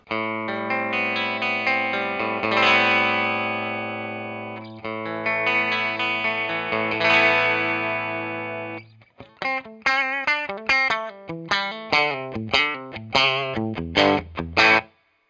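A Sire Larry Carlton T7 electric guitar played on its bridge pickup with volume and tone up: two long ringing chords, then a run of quick, bright, snappy picked notes, loud and close with no talking.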